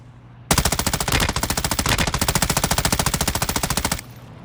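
FTAC Siege gunfire in a video game: a rapid, unbroken burst of automatic shots at a very fast, even rate, loud and close, lasting about three and a half seconds before cutting off.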